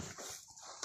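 A short, faint whimper from a dog bitten by a cobra, ending in a sharper little yelp at the close.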